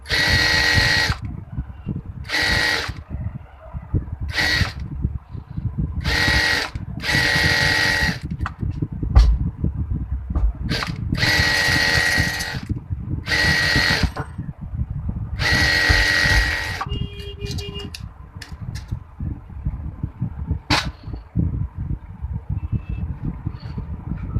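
A sewing machine stitches a palazzo skirt in short, repeated whirring bursts of varying length, separated by pauses filled with soft handling clicks and rustling fabric.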